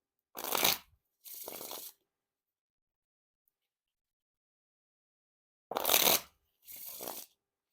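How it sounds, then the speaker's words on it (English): Two pairs of crisp riffle shuffles of Parisian Premium playing cards, each a quick burst of rapid flutter followed by a softer cascading bridge, separated by a long silent pause. "And now time for the Riffle Shuffle or Bridge Shuffle."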